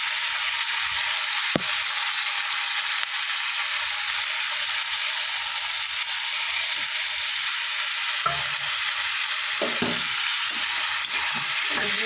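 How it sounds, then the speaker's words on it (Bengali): Masala spices with ground cumin fry and sizzle in a pan for an egg curry, a steady hiss broken by a few clinks and scrapes of the stirring spoon. "মশলাটা একটু কষা কষা হোক।"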